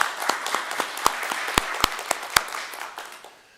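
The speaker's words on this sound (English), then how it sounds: "Can we have a round of applause honoring Jasmine?" A crowd applauds at a mayor's news conference to honor Jasmine Flores, president of Erie City Council, with a steady wash of clapping and a few sharp, louder claps standing out, fading toward the end.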